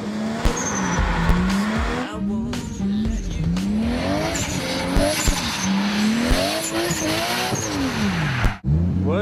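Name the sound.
drift car sliding with tire squeal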